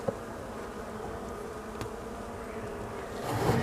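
Honeybees in an open hive at the first spring inspection of a single-colour breed colony; a steady close buzzing hum runs throughout, with a few light handling bumps near the end.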